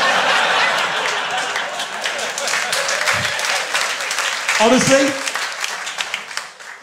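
Audience at a live comedy podcast breaks into loud sustained applause with scattered laughter, and someone speaks briefly over the clapping.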